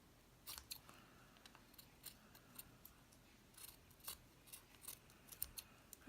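Scissors trimming material, with a series of quick, crisp snips spread irregularly across a quiet background and no one talking.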